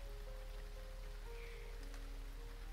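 Steady rain falls on a large glass window of a lounge, a soft, even patter heard faintly throughout with a low hum underneath and no voices.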